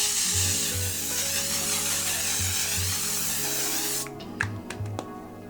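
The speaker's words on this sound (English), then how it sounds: "angle and then spray." A long hissing mist from a makeup setting spray bottle runs steadily for several seconds, then stops, followed by a few faint handling clicks.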